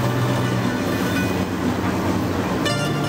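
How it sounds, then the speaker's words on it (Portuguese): A train rolls slowly along rails in São Paulo state with a steady, dense rumble and faint clatter, close and continuous, and a brief brighter squeal comes near the end. "O trem anda devagar, nesse ritmo dá para contemplar"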